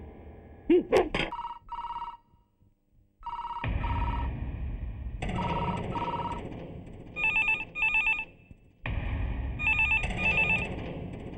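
An old-style landline telephone bell in a police station rings in repeated double bursts with pauses between, left unanswered; a brief voice and a sharp noise come before the ringing starts.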